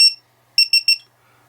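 A DroneKeeper Micro lost-drone finder beeper sounds a short high electronic beep, then after a pause three quick loud beeps in a row, heard alone and close.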